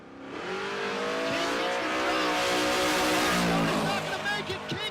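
A Fox Mustang drag car at Tulsa Raceway launches and accelerates hard, its loud rising engine howl climbing through the gears for several seconds, with tire noise and a faint voice underneath.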